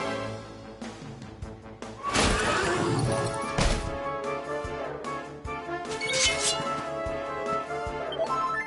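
A headless horse in the Dragon Quest XI video game lets out a loud, drawn-out whinny over game music, followed by clattering and further fainter horse sounds.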